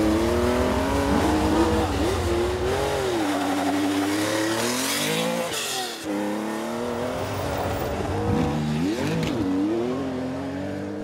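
Tuthill Porsche rally car on a high-speed loose gravel stage, engine revving up and down with repeated lifts and throttle bursts, gravel rushing beneath; loud interior perspective, no speech.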